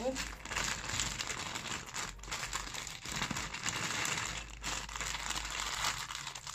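A plastic bag holding cotton soaked in shallot juice crinkles steadily as it is squeezed and kneaded by hand, close and fairly loud, with someone talking over it.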